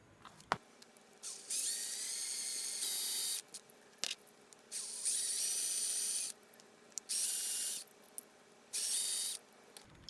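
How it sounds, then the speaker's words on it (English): A small drill with a 1/8 inch bit runs in short whining bursts to drill apart a light blue Hot Wheels Real Rider toy car, stopping and starting several times with clicks and handling noises between the bursts. "I'm gonna drill this apart and then take the plastic wheels off real quick."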